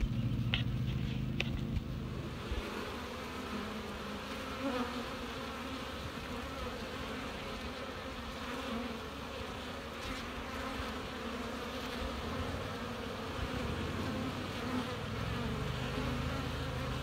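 Honeybees swarming around an open hive during spring buildup, a continuous close, dense buzzing hum that stays steady throughout.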